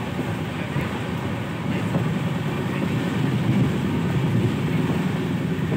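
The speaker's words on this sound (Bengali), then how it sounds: "ট্রেন চলছে" A train runs between Bangalore and Mysore, heard as a steady, fairly loud rolling rumble from onboard with no distinct clacks standing out.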